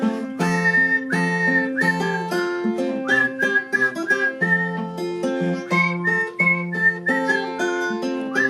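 A person whistles a song melody alone, clear sustained notes moving in phrases, close and fairly loud, with no accompaniment.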